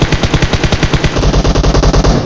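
Rapid automatic fire from an M762 rifle in the PUBG Mobile video game, a loud, dense burst of evenly spaced shots lasting over two seconds, heard up close with no talk.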